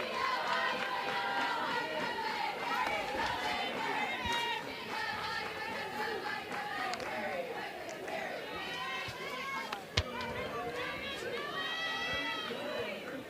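Crowd noise at a Texas vs Oklahoma State college softball game: continuous chatter, shouting and cheering from many spectators, with children's voices and a sharp bat crack partway through.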